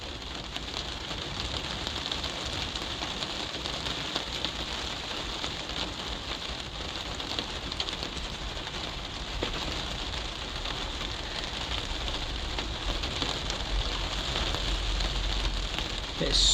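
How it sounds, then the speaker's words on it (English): Steady, heavy rain drumming on a greenhouse roof overhead, a constant dense patter that never lets up, with no voices. "It's so loud in here when that rain hits the roof."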